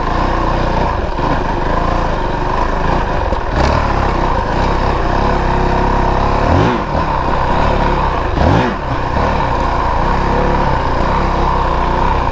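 A 2022 Honda CRF450RL dual sport motorcycle engine drones loudly and steadily on an off-road track, revving up and easing off in repeated surges with brief throttle blips as the rider works through tight technical sections.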